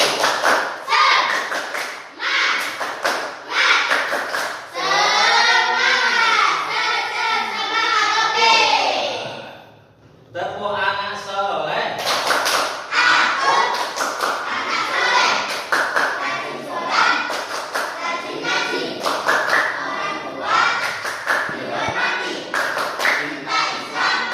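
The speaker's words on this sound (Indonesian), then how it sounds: "Tepuk semangat." A classroom of Indonesian students claps a fast tepuk semangat cheer, a dense run of sharp, rhythmic hand claps mixed with loud group chanting and children's voices. A brief pause comes in the middle before the clapping and shouting pick up again.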